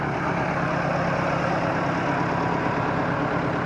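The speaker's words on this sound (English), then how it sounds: "Let me shut this tractor off where y'all ain't got to hear it run." A tractor engine runs steadily beside a hay baler, a constant close rumble with a dense, unbroken hiss and no pauses or voices.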